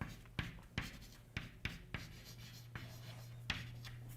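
Chalk or marker strokes on a lecture board while an equation is written, a series of sharp taps and short scratches spaced irregularly, over a low steady hum in a quiet room.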